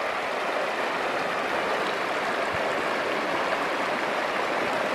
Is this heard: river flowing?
yes